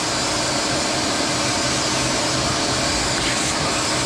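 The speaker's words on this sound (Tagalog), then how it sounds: "Ma-high power yung vacuum eh. Malakas." A high-power household vacuum cleaner runs continuously at close range, a steady broadband roar with a constant, unbroken drone throughout.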